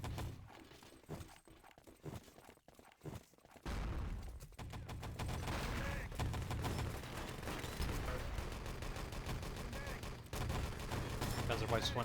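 Rapid bursts of gunfire crackle almost continuously in a Wolfenstein: Enemy Territory match, a crossfire of repeated volleys with a commentator talking over the fighting.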